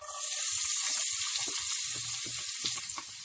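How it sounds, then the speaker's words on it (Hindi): Two medium onions, finely chopped, sizzle in three tablespoons of hot pure ghee for a chicken handi, giving a steady close frying hiss with small crackles and pops. "घी गरम हो चुका है, हम इसमें 2 मीडियम साइज की बारीक कटी हुई प्याज डाल देते हैं।"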